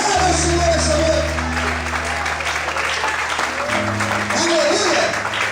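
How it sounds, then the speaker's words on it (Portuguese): A church congregation applauds through an evening service, steady massed clapping over sustained organ or keyboard chords, with some shouts and voices mixed in. "Todos podem aplaudir e exaltar o Senhor essa noite."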